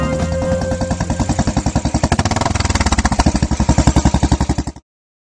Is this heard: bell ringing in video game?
no